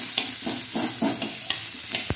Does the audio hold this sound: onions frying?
yes